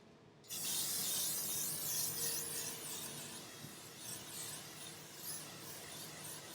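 L'Oreal setting mist sprayed in one continuous close, hissy burst that starts abruptly and runs for several seconds with slight fluctuations.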